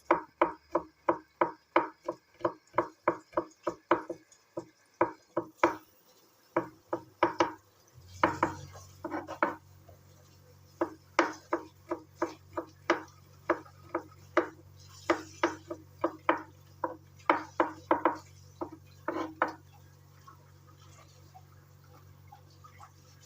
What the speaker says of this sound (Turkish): sarımsakları doğrayalım içine.